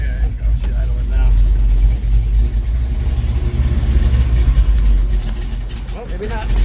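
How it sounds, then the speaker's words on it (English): A 1974 Camaro Z28 idles after sitting unstarted for over a week, its exhaust giving a loud, close, low rumble with slight unevenness, while a person talks over it. "We can listen to the exhaust in the back."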